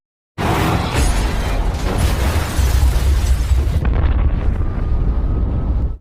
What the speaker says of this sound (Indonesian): Sementara bagian lift di gedung itu harus meledak saat itu juga.